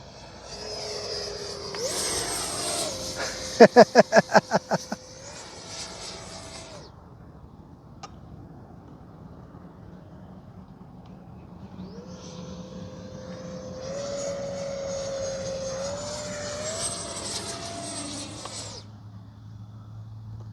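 Freewing Mirage 2K V2 RC jet flying a Cobra maneuver on a hot day, its ducted-fan whine rising and falling as it passes, with a brief burst of sharp clicks partway through and a quieter stretch before the whine returns.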